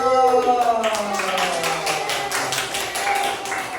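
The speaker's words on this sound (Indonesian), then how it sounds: "Pinter, tepuk tangan dulu." Children in an Islamic studies classroom break into a short round of clapping, a brisk patter of hands that blends with a voice sounding at the same time.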